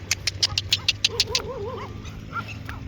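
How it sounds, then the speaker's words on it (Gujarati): A pack of village dogs in rainy weather, giving a quick run of sharp close yips followed by wavering whimpers and whines, all within a few seconds. "કૂતરાની ગેંગ સામે આવી ગઈ છે"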